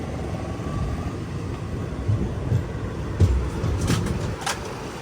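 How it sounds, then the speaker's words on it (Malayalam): A mail train rolls into Feroke railway station, a steady low rumble of wheels and engine with a few soft clanks and brief higher squeals near the end, heard from on board without any talking. "ട്രെയിൻ ഇപ്പോൾ ഫെറോക്ക് റെയിൽവേ സ്റ്റേഷനിലെത്തി"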